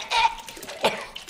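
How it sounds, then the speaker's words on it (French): A couple of short, sharp coughs from a TV episode playing close by, the first stronger than the second, with no speech around them. "Il va aller tousser"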